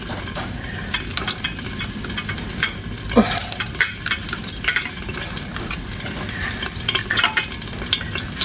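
Butter melting and sizzling in a pan for macaroni soup, a close, continuous crackle broken by irregular scraping and clacking stirs.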